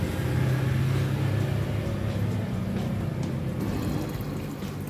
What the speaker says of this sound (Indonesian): Kita siramkan merata ke seluruh permukaannya teman